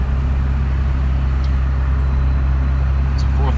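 A Cummins diesel truck engine that won't rev past 2000 rpm with no power, driving in fourth gear up a long steep hill onto a dirt road; a loud, steady low drone with a constant deep hum, heard from inside the cab.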